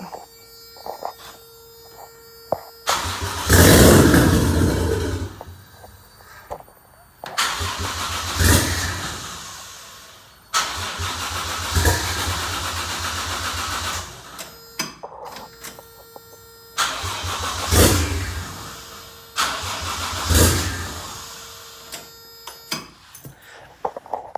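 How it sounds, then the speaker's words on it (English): A 1JZ engine with wiring issues cranks in several separate bursts with quiet gaps between them, each attempt a close, churning starter whir that never catches, with faint key-in-ignition chiming between. "I'll show you what happens when you try and crank it."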